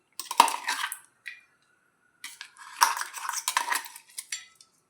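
A metal spatula scrapes and clatters against a hot tawa while coarse-ground coriander stem chutney is stirred in oil, in two bursts of busy scraping separated by a short quiet pause, with no one speaking.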